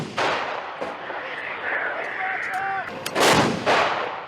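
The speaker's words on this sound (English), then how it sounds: "A relentless barrage in eastern Ukraine targets Russian positions." An artillery barrage in eastern Ukraine, heavy booming blasts striking near the start and again loudly after three seconds, with rumbling echoes between and a brief voice in the background.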